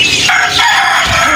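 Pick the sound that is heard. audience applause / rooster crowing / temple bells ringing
rooster crowing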